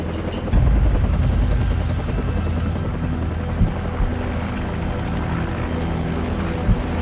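A helicopter hovers nearby in the video game Call of Duty 4, a loud continuous rotor thrum and engine roar dominating throughout, with a few faint thuds underneath.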